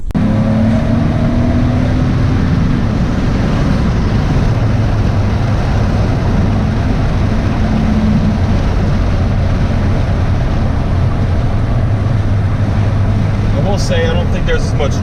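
A Toyota Corona with a Chinese test pipe fitted in place of the removed catalytic converter, recorded from inside the car while driving, as a loud, steady exhaust drone and road roar with a faint whine running throughout.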